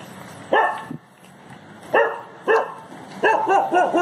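A dog barks on a quiet street at midnight in Nagpur, several sharp barks in bursts, a single one then a pair and a rapid cluster near the end, fairly close, with no talking.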